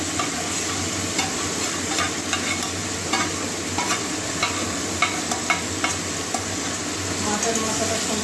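Katla fish head frying in spiced oil in a pan, a steady loud sizzle with repeated scraping stirs of a spoon through the masala, no voices.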